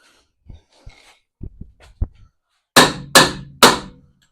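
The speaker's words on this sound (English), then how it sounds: "Tap it with a hammer." A hammer taps a car suspension part three times in quick succession, sharp close metallic knocks following a few softer clicks and handling noises.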